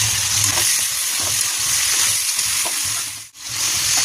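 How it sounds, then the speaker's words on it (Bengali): Ginger sizzles in hot oil with salt, stirred in a pan: a loud, steady frying hiss with soft scraping strokes, up close, briefly dipping near the end. "আদা ভাজা হয়ে গেছে, এবার একটু নুন দিয়ে দেবো।"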